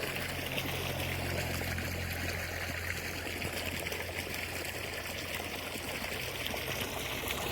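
Irrigation water flowing steadily along a channel in a cucumber field, a constant broadband trickling wash with a low hum underneath, moderately loud and unbroken throughout.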